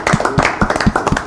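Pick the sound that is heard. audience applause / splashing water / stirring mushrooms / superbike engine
audience applause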